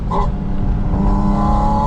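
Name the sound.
2025 Porsche Spyder RS engine while driving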